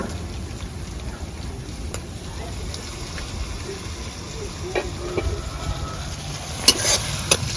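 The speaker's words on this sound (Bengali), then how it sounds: "এবার ভালো করে কষবো মশলাটা" Spice masala with salt, turmeric powder and a splash of water sautéing in a pan for a banana flower kofta curry, giving a steady close sizzle and hiss with sharp scrapes and clicks from stirring, louder near the end.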